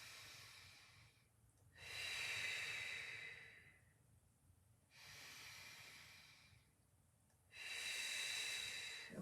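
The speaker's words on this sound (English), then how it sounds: "So in through the nose and out through the mouth through the session" Slow, deep breathing during a Pilates session, three long airy exhales in a steady rhythm with quieter inhales between, close to the mic and with no talking.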